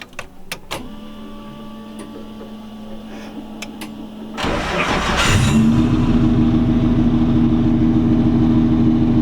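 A BR R32 4R car engine turning over with a starter whir, then catching into a steady, loud idle that settles into a constant hum, after a few light clicks inside the cabin.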